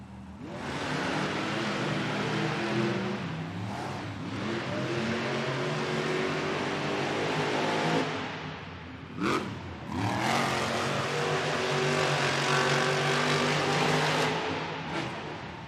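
Monster trucks race in a Monster Jam semifinal at an arena in Tacoma, engines roaring loud and sustained with revving surges, a brief drop and sharp burst midway, then roaring on again.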